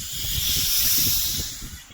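Gas hissing out of an opened Thums Up cola bottle, a steady loud fizzing hiss sustained for about two seconds and easing slightly at the end.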